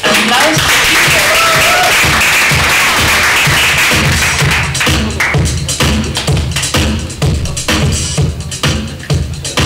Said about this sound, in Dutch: Applaus voor Pieter.